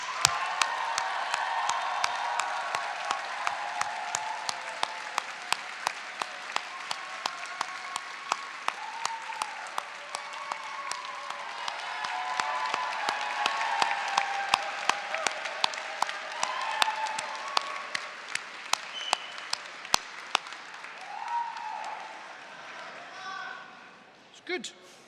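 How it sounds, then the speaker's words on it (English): A graduation ceremony audience at Dundee University's winter graduations applauds steadily for about 25 seconds, dense clapping with some cheering mixed in, fading out near the end. "let's have a round of applause and a cheer for your friends and family."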